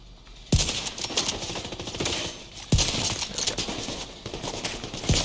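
Enemy gunfire in The Division 2: sharp, loud shots crack out in a few separate bursts, with a steady rattle of distant firing between them.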